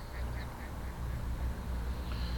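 Wild ducks quack faintly and repeatedly in an outdoor Maine wetland in late November, the calls distant and spread across a steady low background rumble, with no talking.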